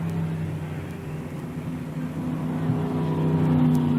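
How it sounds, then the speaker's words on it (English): Sportsman race car at Lebanon Valley speedway pulling away after a yellow flag, a steady engine drone with harmonic whine that builds slightly louder toward the end, heard at a distance under race ambience. "One of the cars pulling away from Mason,"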